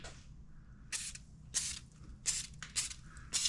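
Several short hissing spray bursts from an aerosol can of penetrating oil on a 1993 Chevy truck's exhaust, spaced irregularly with quiet gaps between them, close up.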